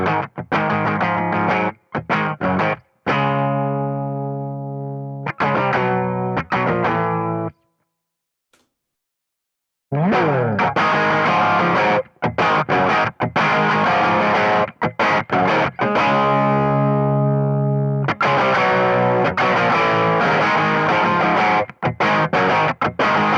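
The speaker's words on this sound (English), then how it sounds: "Let's check out what this deluxe reverb sounds like." Electric guitar through a Fender Deluxe Reverb amp, clean and warm with reverb, strummed chords and single notes played loud, with a short pause before playing resumes.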